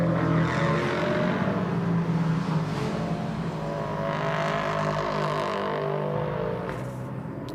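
A GT race car at the Hockenheimring during a GT Masters race drones past with a steady, loud engine roar that holds for several seconds and then eases slightly as it moves away.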